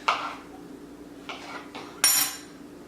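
Chopped peppers and mushrooms drop into a Vitamix blender container in three separate hits, each a short clattering knock, the last one loudest, with no talking.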